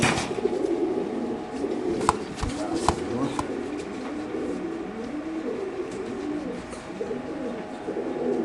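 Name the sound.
racing pigeons cooing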